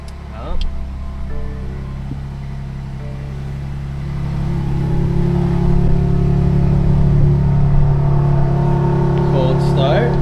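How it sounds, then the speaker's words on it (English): A BMW G80 M3 fires up from cold after sitting for about a week, settling into a deep steady idle rumble that grows louder and fuller partway through, close by, with brief talk near the start. "Cold start. Doesn't sound that bad."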